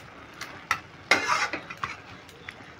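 Young, tender cabbage simmering in its own released water in a pan, stirred with a utensil: soft scraping and clinks in scattered bursts over a low, steady sizzle, close up with no voices.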